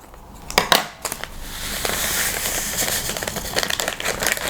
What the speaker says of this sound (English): First thing, we will put citric acid into the bowl